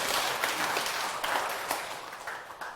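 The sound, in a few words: audience clapping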